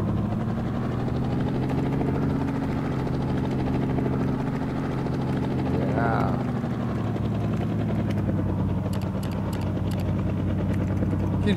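A player-built flying ship in a video game drones with a steady low engine hum and rotor-like thrum throughout, with a brief voice and faint ticking sounds over it.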